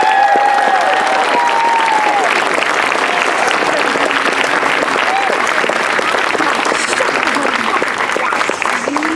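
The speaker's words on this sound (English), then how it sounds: "Let's give them a real big round of applause" An elementary school graduation crowd gives graduating students a big, steady round of applause, loud and continuous throughout, with a brief voice at the very start.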